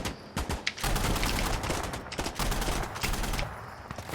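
Gunfire in the video game Insurgency: Sandstorm crackles in dense, rapid bursts of overlapping shots, loud and close, with continuous automatic fire through most of the stretch.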